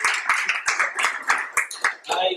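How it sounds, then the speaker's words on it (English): A small club audience gives a round of applause for its president, with sparse, uneven claps close by and a few loose hand strikes spread across the moment. "Give her a round of applause as your president of the small club."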